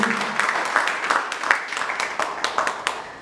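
An audience claps steadily at a Krutadnyata Din 2022 gratitude event, with dense applause and sharper individual claps popping out over a faint voice.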